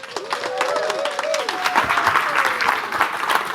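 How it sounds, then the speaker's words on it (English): A conference audience applauds the first speaker with a standing ovation. Loud, sustained crowd clapping is joined by a few whoops and cheers, and it stays strong from start to finish. "So please give a huge round of applause and a standing ovation to our first speaker, Angela."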